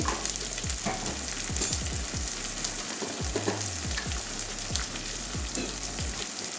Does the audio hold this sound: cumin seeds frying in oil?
yes